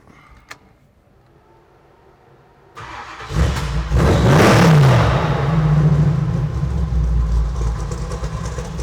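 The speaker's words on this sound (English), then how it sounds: "Steve, why don't you go ahead and start the truck?" A quiet moment, then a 1972 Ford F100 pickup truck engine with side exit exhaust cranks and roars to life, revving loudly with a rising and falling pitch before settling into a steady, rumbling idle up close.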